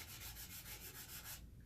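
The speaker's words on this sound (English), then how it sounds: "you're going to wet sand with it, and just basically make circles." Fine-grit sandpaper wet-sanding a scale model in small circular motions gives close, steady rhythmic rubbing strokes that stop abruptly near the end, with no talking.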